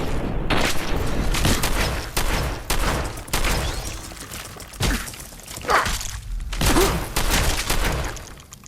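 Loud gunfire in Fallout 4: repeated sharp shots and short bursts fire close by at an irregular rhythm for several seconds, with heavy booming impacts between them.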